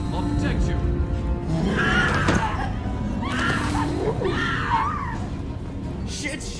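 A woman screams in Mass Effect 2 as Collectors board the Normandy's crew deck. Several shrill, wavering cries rise over a dense rumble of game sound.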